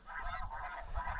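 Several geese honk close by in a quick overlapping run of calls, heard from inside a hunting blind in Alberta, with no talk over them.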